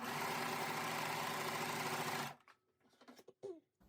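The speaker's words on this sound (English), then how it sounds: "First thing I'm going to do is serge across the straight long edge." A serger overlocker stitches across the straight long edge of a bodysuit gusset lining, a loud fast mechanical whir that runs for about two seconds and then stops, followed by faint handling sounds of fabric.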